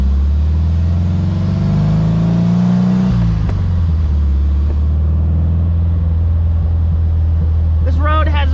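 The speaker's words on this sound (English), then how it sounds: "1957 Porsche Speedster and the road away from Hana" A 1957 Porsche 356 Speedster drives a winding Hawaiian road near Hana, its engine droning loud and close with a low steady hum and a rise and shift in pitch partway through.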